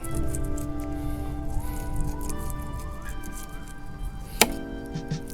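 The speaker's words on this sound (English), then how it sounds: "It's a lot harder to fillet fish when they're not cold" A knife works through a freshly caught, unchilled, slippery fish outdoors, making soft wet slicing and squishing sounds over a steady background hum, with one sharp click near the end.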